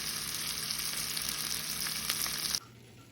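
Vegetables sauté in a pan with a steady, close hiss of frying and occasional crackles and stirring scrapes, then the sizzle drops away abruptly near the end.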